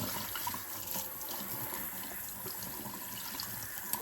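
A tanning mitt being rinsed under a running tap, with a steady rush of water splashing in a sink, close and continuous throughout.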